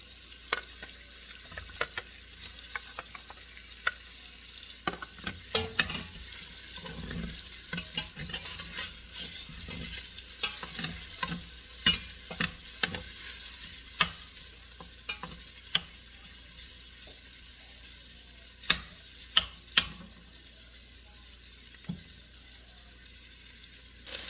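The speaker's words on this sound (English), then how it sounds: "I'm trying to brown the pork first, and then I will put the garlic, red onion, and tomatoes." Pork sizzles steadily as it browns in a pan. Garlic then goes in and fries, with frequent scraping stirs and a few sharper clanks over a constant low hiss. No voices.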